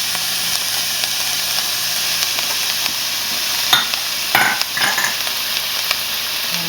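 Garlic frying in a pan beside mushrooms, a loud, steady, close sizzle with a few brief scrapes and clatters of stirring near the end.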